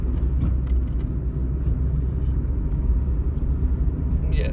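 A car rolls along the road with a low, steady rumble of engine and tyres heard from inside the cabin, continuous and fairly quiet, with no talking.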